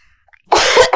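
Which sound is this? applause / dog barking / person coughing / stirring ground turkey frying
person coughing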